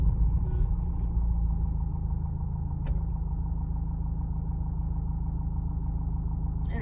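A car with its engine idling steadily at a red light during a driving lesson, a low continuous rumble held close and even throughout with no talk over it.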